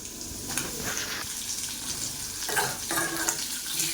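Shallots, ginger and potato fry in a pan, a steady close sizzle with brief bursts of louder crackle and stirring scrapes running throughout, no voices.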